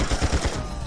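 Short burst of assault rifle fire in the Tomorrow Never Dies video game, a few rapid punchy shots in under a second, loud and close with no talk.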